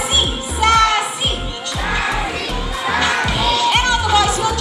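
A group of children at Manila Ocean Park shouts and cheers for Sassy with loud, rhythmic chanting bursts, excited high voices overlapping in a lively crowd.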